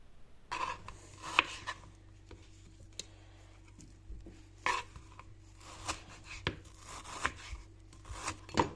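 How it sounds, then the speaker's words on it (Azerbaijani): A knife chops chicken fillet finely on a board for mincing, irregular sharp taps spaced a second or so apart, close and fairly quiet over a low steady hum. "Daha sonra toyuğun fillə hissəsini ət maşınından çəkəcək şəkildə doğrayırıq."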